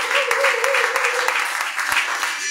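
A church congregation applauding to acclaim Jesus: a brief burst of steady crowd clapping and cheering, with a voice speaking over it.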